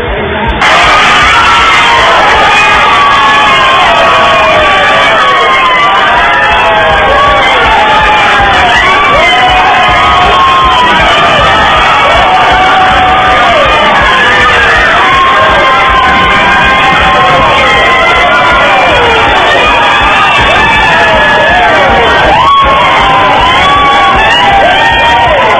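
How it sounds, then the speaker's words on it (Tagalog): A large crowd cheers and shouts nonstop at a boxing match as Manny scores a ninth-round knockout over Diaz, a loud, dense roar throughout. "ang sigaw ng tagumpay."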